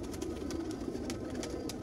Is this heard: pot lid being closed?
no